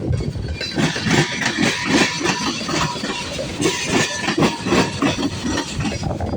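A long CSX M364 freight train rolls past Marion Union Station in Marion, Ohio. The wheels beat out a loud, close, rhythmic clickety-clack over a grinding rumble, with no voices.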